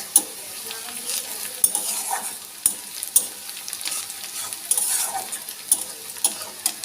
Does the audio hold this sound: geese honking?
no